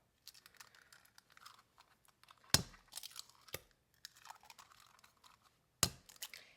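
Farm fresh eggs being cracked into a bowl while mixing apple cinnamon bread batter: three sharp, close cracks stand out against quieter rustling and handling, with no talk.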